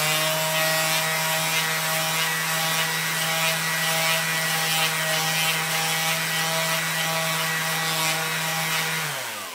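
A handheld electric power sander runs at full speed against a surface, giving a steady, loud motor whine with a gritty abrasive rasp that holds for several seconds before spinning down at the end.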